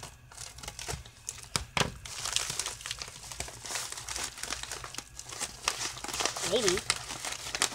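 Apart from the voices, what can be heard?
cutting open a package with scissors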